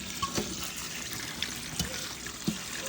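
Galangal, lemongrass, shallots, garlic and fingerroot being rinsed under running water in a kitchen, a steady trickling stream with occasional splashes and handling knocks, close and moderate in level.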